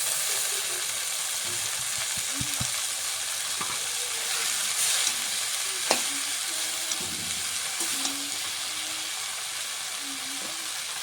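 Kalmi greens go into hot oil with browned onion, garlic and chili in a pan on a gas stove, a steady close sizzle with occasional clinks and scrapes of a spatula.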